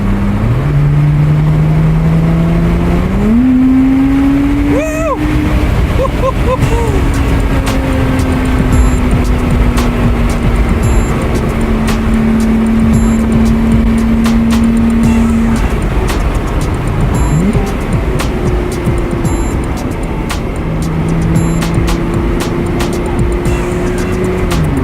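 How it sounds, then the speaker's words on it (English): A Lotus Exige S drives in sport mode, its engine note climbing through the gears and dropping back with automatic throttle blips on downshifts, loud and close from inside the car, with some tire noise. "Those blips you're hearing on the downshifts, by the way, it's doing those itself."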